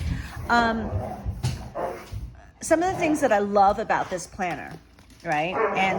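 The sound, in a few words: dog barking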